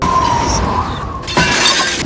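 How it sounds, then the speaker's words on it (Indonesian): A bowl flung and smashing as a film sound effect: a sudden loud shatter of breaking crockery about halfway through, with a bright burst of fragments that rings on to the end, heard over a narrated soundtrack. "Mangkok yang dia pegang terlempar."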